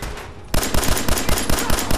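Laser gun fire in the video game Fallout 4: after a half-second lull, a loud, rapid volley of regularly spaced shots pounds on steadily until the end.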